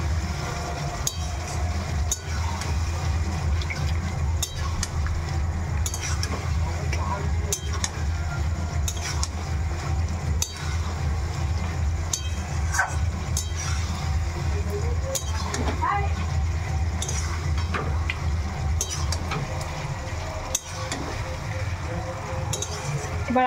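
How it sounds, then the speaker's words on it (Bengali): Mutton curry is stirred and sautéed in a pan, with repeated metallic clinks and scrapes of a utensil against the pan over a constant low background hum. "এবার আমি ভালো করে এদিক ওদিক করবো, ভালো করে একটু কষিয়ে নেব।"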